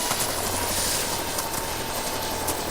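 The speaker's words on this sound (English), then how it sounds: "This is Obsidian Stone's chopper." A villain's helicopter flying in an animated cartoon, a loud continuous rotor and engine roar with a rapid chopping throb, steady throughout and heard alone.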